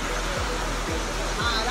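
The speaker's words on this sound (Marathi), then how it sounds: "आता बघा मस्त पाऊस पडतोय बाहेर" Heavy rain falls outside in a steady, dense hiss with low thumps near the microphone, while a voice talks over it.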